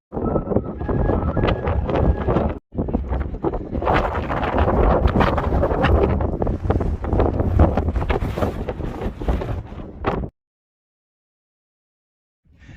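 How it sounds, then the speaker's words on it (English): Strong wind buffeting the microphone on a cloud-covered mountain summit in Snowdonia at about 860 metres, a loud continuous roaring rush with one brief break, then cutting off abruptly. "then we can get out of this wind"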